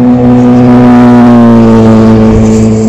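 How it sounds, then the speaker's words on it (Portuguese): A BMW motorcycle passes close by on a road, its loud, steady engine drone filling the whole moment with a strong, even hum. "Oh, que moto bonita. Uma BMW."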